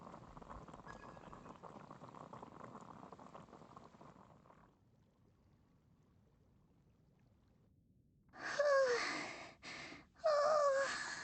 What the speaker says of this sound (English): Boil some water.